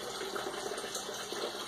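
Sparge water for a home brewing day pouring and gushing into a vessel, a steady loud rush of liquid lasting the whole moment with no talking.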